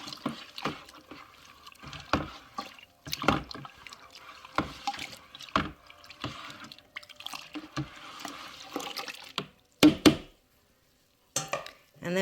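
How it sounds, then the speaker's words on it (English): Hot water running from a tap into a bucket of melted soap for homemade laundry detergent, an uneven splashing and trickling stream with brief pauses and a short silence near the end. "we are going to fill up the rest of the bucket with hot water from the tap"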